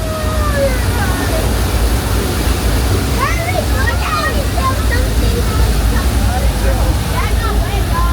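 A staged flash flood on a Universal Studios tour in Los Angeles, released from large tanks of recycled water on a hillside, roars as a loud, steady rush of water with scattered squeals and cries from the crowd on top.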